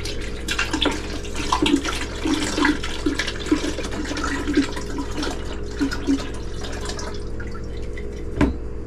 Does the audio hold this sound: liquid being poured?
yes